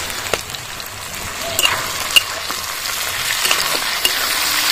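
Chili and garlic frying in a pan alongside fried seeds and pointed gourd, a steady close sizzle with a few sharp crackles and pops.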